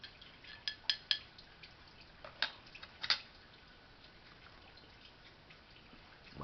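MRE coffee from an early-1990s brown bag ration is stirred in a mug, giving faint clinks and light liquid ticks, several in the first half and then fading to quiet.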